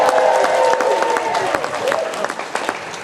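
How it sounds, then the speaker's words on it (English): Festival crowd at a circus-versus-Morris folk event cheering and applauding, a dense sustained wash of clapping with whoops and shouts rising over it, steady and loud throughout. "Big cheer for Zach!"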